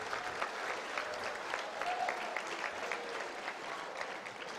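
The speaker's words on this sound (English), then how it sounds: "A huge round of applause for the presenting sponsors." A dinner crowd at a reunion fundraiser gives a sustained round of applause, many hands clapping densely and evenly for several seconds.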